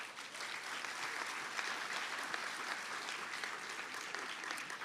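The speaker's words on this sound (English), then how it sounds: "Give her a round of applause" An audience at a nursing excellence awards ceremony applauds an award presenter, a soft and fairly distant wash of clapping that stays steady for the whole stretch.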